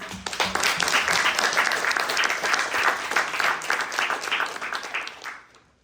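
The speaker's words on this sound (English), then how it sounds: "let's give a round of applause for all of the finalists" Audience at a venture pitch competition applauding the finalists, a sustained, dense wash of clapping from a sizable crowd that holds steady for about five seconds before fading out.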